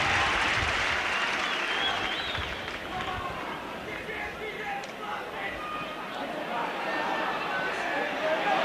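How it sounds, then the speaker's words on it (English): At a 1987-88 Everton versus Nottingham Forest football match, a stadium crowd gives a player a round of applause, a broad distant wash of clapping and crowd noise beneath a commentator's voice. "Reid is waiting to come back on the far side and gets a round of applause."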